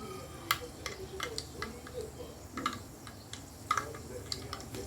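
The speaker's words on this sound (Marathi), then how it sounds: "आवाज येतोय ना तुम्हाला तडतड, तर ते राई फुटते आपली" Mustard seeds crackling and popping in hot oil during tempering for sambar, sharp irregular pops and ticks scattered over a low sizzle, close and fairly quiet.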